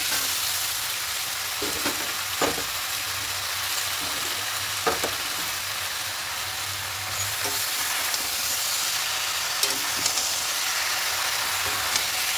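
Malabar spinach sizzles and fries in a pan with a chickpea curry base, the steady hiss broken by several sharp stirring scrapes and clatters close by.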